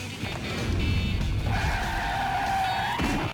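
In a movie sound effect from the 1998 comedy Chairman of the Board, a car's tires skid with the engine roaring. A loud, close squeal rises and holds for a couple of seconds before cutting off abruptly.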